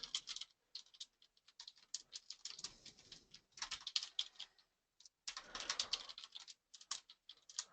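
Fast typing on a computer keyboard as a query string is entered. Bursts of close, crisp key clicks are broken by short pauses, with no voices.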